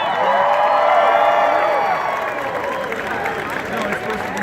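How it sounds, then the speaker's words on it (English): Large live audience applauding and cheering for actress Melissa Joan Hart at a fan event, a dense continuous wash of clapping with whoops and crowd voices, steady and loud throughout. "please give your biggest round of applause you can possibly imagine for the star of Sabrina the Teenage Witch"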